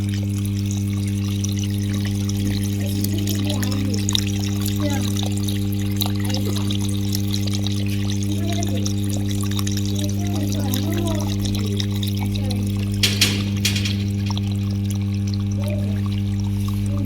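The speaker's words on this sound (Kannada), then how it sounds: "ನೀರು ಹೋಗ್ತಾ ಇದೆ." Water trickles and pours steadily near a snake burrow beside high-voltage electric lines, a continuous soft flow under a constant low electrical hum, with brief louder splashes.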